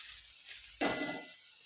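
Sago pearls and crushed peanuts hit a hot pan with green chillies at about 0.8 s, setting off a sudden loud sizzle that keeps frying steadily over a faint background hiss.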